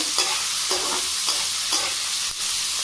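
Large pieces of green chilli frying in oil, stirred in a pan: a loud steady sizzle with four rhythmic scraping strokes of the spatula, close by and with no speech.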